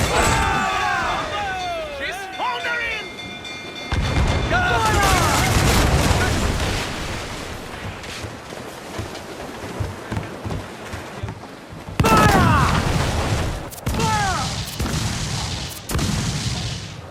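Ship cannons fire during a naval battle in Assassin's Creed IV Black Flag, heavy booms landing in bursts and clusters amid rumbling combat noise, with shouted orders from the crew in between.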